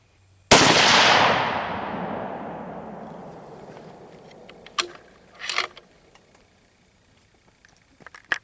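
A single loud rifle shot from a .260 Remington, a sharp crack followed by a long fading echo, then faint clicks and metallic handling sounds.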